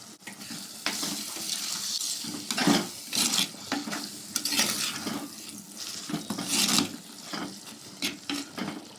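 Chicken curry masala being stirred in a pan over a low flame for a Tamil chicken kulambu, with a spoon scraping and clattering in irregular bursts over a soft simmering sizzle, close and fairly quiet.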